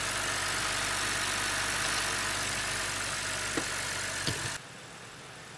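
A car engine idles steadily just after starting, with a dense continuous rumble at close range and a couple of faint clicks, then cuts off abruptly near the end, leaving near silence.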